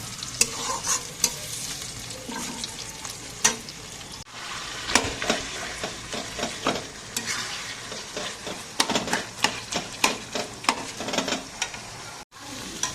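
Slit green chilies frying in a pan with a stirring utensil, a close, loud, steady sizzle broken by repeated scraping strokes, with no talk.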